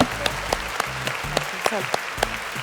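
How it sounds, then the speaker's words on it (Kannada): A studio audience on a women's television game show claps loudly for Team Orange, sharp close claps landing in a brisk, fairly regular rhythm over a busy room. "ಒಂದು ಜೋರ್ ಚಪ್ಪಾಳೆ ಕೊಡಿ ಟೀಮ್ ಆರೆಂಜ್ಗೆ."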